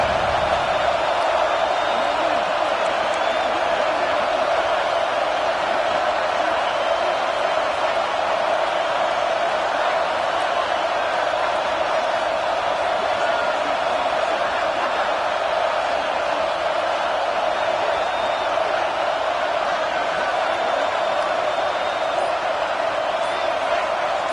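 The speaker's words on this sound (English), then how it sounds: "And the crowd coming to life here, trying to help this defense down in the red zone." A large football stadium crowd roars continuously as a steady, dense wash of noise, cheering on the defense in the red zone without any breaks.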